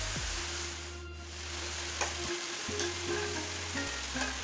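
Marinated coriander chicken frying in hot oil in a pan, a steady close sizzle with occasional stirring clinks and brief tonal hums from the kitchen, no speech.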